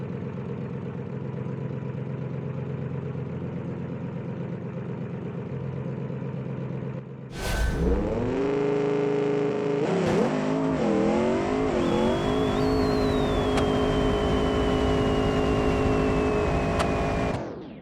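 A tuned car idles with a low, steady rumble, then launches on a drag race run, the engine revving hard and climbing through several gear changes, loud and close, until the run ends.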